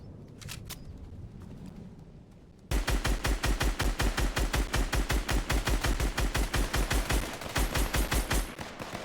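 Rapid automatic gunfire in Fortnite, a sustained stream of evenly spaced, punchy shots lasting several seconds, loud and close, following a quieter stretch with a couple of faint clicks.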